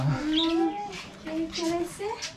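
Several birds chirp and coo close by in short, separate calls inside a house in Guatemala, with a brief voice faintly in the background.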